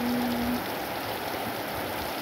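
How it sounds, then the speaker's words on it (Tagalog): Heavy rain pouring down over a village, a steady dense hiss of water with no other sounds standing out. "Lakas-lakas ng ulan."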